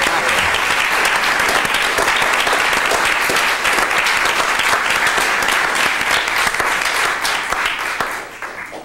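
A large audience stands and claps in sustained, dense applause at a public ceremony, holding steady for several seconds before tapering off at the end.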